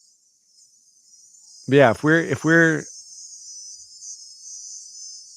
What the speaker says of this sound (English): That's a cicada in the background.